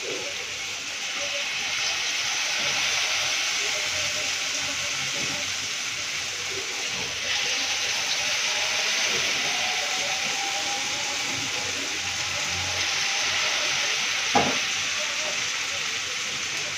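Vada frying in hot oil in a fully heated kadai, a loud continuous hissing sizzle that holds steady throughout, with a faint tone drifting in the middle and a brief clink near the end.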